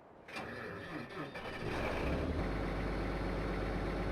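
A Case Quadtrac tractor engine in Farming Simulator cranks and catches, then settles into a loud, steady low rumble that continues to the end.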